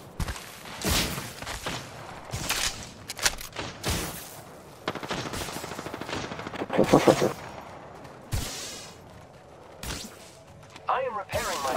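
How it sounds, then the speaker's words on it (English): Bursts of automatic gunfire and single shots crack through a tense Apex Legends firefight, loud and near in irregular clusters, with a player talking over the shooting. "I think we're getting shot at."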